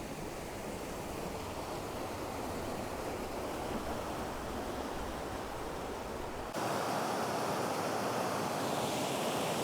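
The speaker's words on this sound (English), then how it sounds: "The three waterfalls, the three little cascades all on a line like that" Three small waterfall cascades in a row at Alva Glen, heard as a constant dense roar of rushing water with no gaps, growing slightly brighter and louder partway through.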